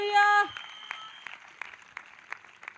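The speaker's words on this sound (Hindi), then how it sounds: "जितनों को ये बात समझ में आ गई है वो ताली बजाकर धन्यवाद कर रहे हैं।" A church congregation at a worship service claps in scattered, uneven bursts, fairly quiet and spread out, after a short sustained tone at the start.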